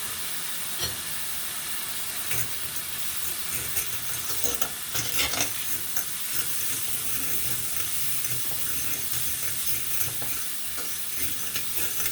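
Vegetables and seasoned rice fry in a hot pan, steady close sizzle with scraping stirs and clinks throughout, no talking.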